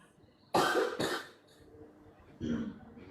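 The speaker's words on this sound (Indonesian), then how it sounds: "Siapa tuh yang batuk tuh?" A couple of quick, sharp coughs close to the mic, followed by a softer, rougher cough or throat sound a moment later.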